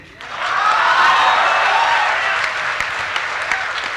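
An audience at a Hindi comedy poetry show breaks into applause that swells quickly, holds as a dense loud burst of clapping, then thins gradually with scattered claps toward the end.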